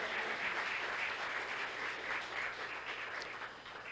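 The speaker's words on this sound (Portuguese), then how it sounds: "Bem bonito as palmas para Jesus" Church congregation applauding for Jesus during a sermon, a dense, steady wash of many hands clapping at moderate level, easing slightly toward the end, with no talking over it.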